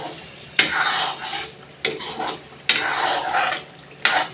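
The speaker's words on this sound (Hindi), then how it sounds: "अब हम इसको 1 मिनट के लिए इसको भून लेते हैं हाई फ्लेम करके" Chicken liver kaleji being stirred and fried in a pan over high flame, loud sizzling in four bursts as a spatula scrapes and turns the pieces, with quieter frying between.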